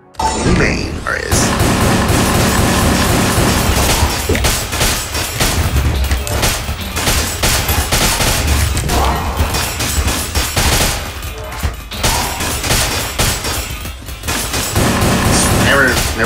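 Relentless rapid gunfire and explosions in the video game Enter the Gungeon, bursts and booms piling up continuously and loudly with hardly a gap.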